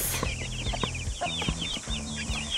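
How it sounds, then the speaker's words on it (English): A hen and her chicks on a New Zealand lifestyle block, fed pellets, cluck steadily and close by in a busy, continuous chatter of short repeated calls and soft peeps, with no talking. "So we'll just give these chicks and their mum some pellets."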